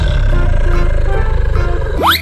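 A cartoon lion in a 3D animal animation gives a loud, rumbling roar that fills the foreground for about two seconds, closing with a quick rising whistle sweep.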